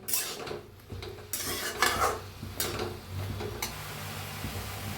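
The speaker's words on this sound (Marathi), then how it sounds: "वांगी बी भाजून घेऊया, ह्यांना बी हलवून थोडंसं तेल ओतून भाजून घेऊया" Brinjals stirred and roasted in a little oil in a pan, with repeated scraping and clattering of a utensil against the pan in uneven bursts, close and moderately loud, with no talking.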